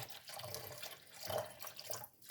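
Distilled water pours steadily in a thin stream with a soft splashing hiss, close by and alone, rising slightly in the middle before trailing off.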